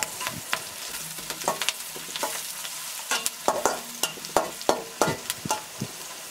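A spoon stirs a sizzling tomato fish curry base with turmeric in a pan, giving repeated scraping strokes and clinks over a steady low fry, close and fairly quiet.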